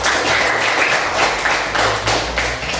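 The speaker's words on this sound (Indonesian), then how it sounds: "Tepuk tangan untuk kelompok 3." Students in a Catholic religious-education classroom clap for group 3, a steady burst of close, dense applause lasting the whole few seconds with no talking over it.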